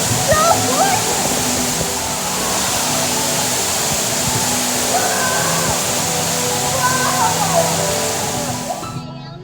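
A waterfall roars close by in a continuous loud rushing wash of falling water, with splashing throughout and people talking briefly over it.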